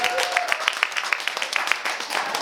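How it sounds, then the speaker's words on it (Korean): An audience at an arts award ceremony in a small theatre hall claps steadily, a dense patter of many hands with distinct individual claps, moderately loud and continuous for a couple of seconds. "큰 박수 부탁드립니다."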